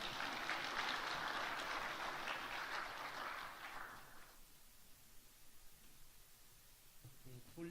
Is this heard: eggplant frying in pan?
no